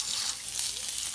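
A cod fillet fries flesh-side down in a pan, giving a brief, quiet, even sizzle with a soft crackle throughout.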